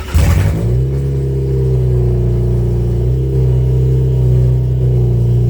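A Toyota Camry derby car engine revs up sharply at the start, then holds a loud, steady, rumbling idle with harmonic drone close by, no talking.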